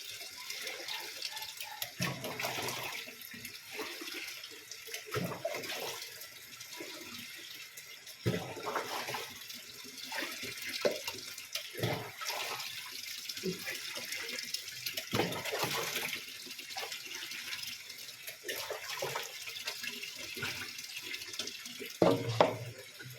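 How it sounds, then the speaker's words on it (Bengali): Water pours steadily into a household water filter in a home kitchen, a continuous close splashing stream with brief pauses and shifts in flow, no talking. "ফিল্টারে জলটা দিয়ে দিই,"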